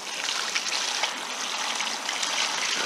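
Water pours steadily into a bucket of comfrey leaves at an allotment, a continuous close splashing gush with no talk over it.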